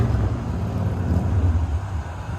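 An all-wheel-drive Optima Ultimate Street Car competitor at the SEMA show rumbles with a deep, steady exhaust drone, loud and close, without voices over it.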